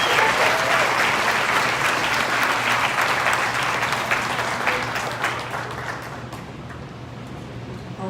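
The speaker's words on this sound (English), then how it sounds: "Give them a round of applause." An audience gives a round of applause at a Teacher of the Year event. The clapping is loud and dense at first and holds for several seconds, then thins and fades over the last couple of seconds as it dies away.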